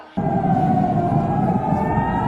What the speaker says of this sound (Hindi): इंडिया टुडे और इस ग्रुप के हिंदी चैनल में लगातार दोनों देशों के तनाव को कवर करते हुए सायरन बजाया गया